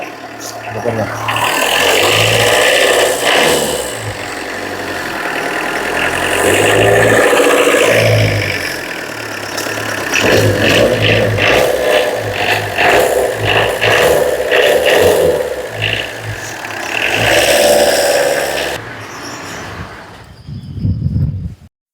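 A car engine runs and revs up and down repeatedly, loud and close, with voices talking over it, then cuts off near the end.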